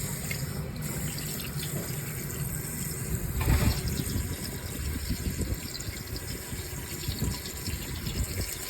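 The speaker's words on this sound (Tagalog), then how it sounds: "Lagyan natin ng tubig." Tap water runs steadily into a cooking pot while salmon is being prepared, a continuous splashing flow with a brief louder surge midway, close and clear, no voices.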